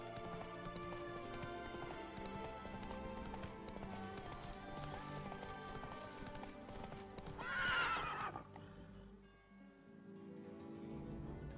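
Roach, the horse in The Witcher 3: Blood and Wine, gallops with steady clip-clopping hooves under game music, then gives a loud neigh near the end before the hoofbeats fade.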